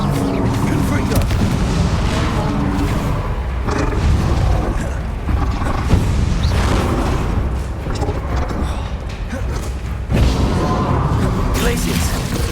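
Confringo explosion spell cast during a Hogwarts Legacy battle, heard as a string of heavy, booming blasts over a dense, continuous roar of combat noise, with fresh impacts around four, six and ten seconds.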